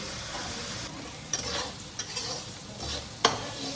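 Onions sizzle softly in a pan while a spoon stirs them, giving a low, steady frying hiss punctuated by a few distinct scrapes and taps against the metal, the last one sharp and close.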